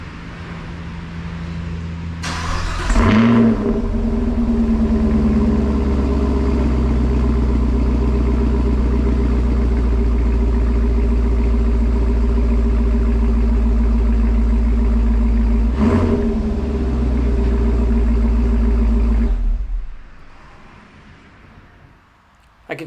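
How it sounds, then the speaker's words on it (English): A 2023 Chevrolet Camaro SS 1LE V8 engine cranks and fires up with only the exhaust valves open, a loud roar, then settles into a deep, rumbling idle with a blip of revs before shutting off. "having just the exhaust valves open on the valved exhaust and letting it fire up"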